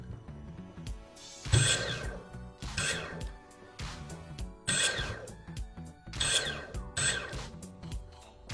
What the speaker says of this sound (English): tap the trigger, and the rope will start to feed through